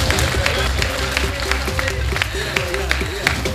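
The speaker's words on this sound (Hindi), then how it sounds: "ताली बजाकर खोलिए साहब," An audience at a poetry recital claps steadily throughout, a dense patter of many hands filling the hall, while a voice speaks loudly over it.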